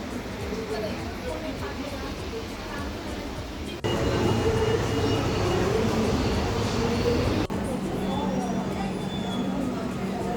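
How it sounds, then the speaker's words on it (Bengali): A Kolkata Metro train rumbles steadily into Park Street station, a loud continuous roar with a sharp shift partway through, as voices murmur faintly around it. "আমাদের ইন্টারচেঞ্জেবল নেক্সট মেট্রো চলে এসছে"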